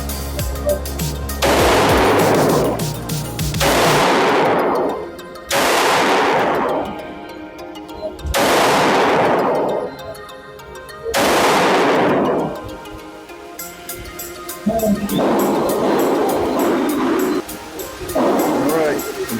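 A Springfield Hellcat Pro pistol with its original barrel fires Blazer 147-grain ammunition. About five heavy, booming shots ring out several seconds apart, each with a long decaying echo, followed by fainter softer noises.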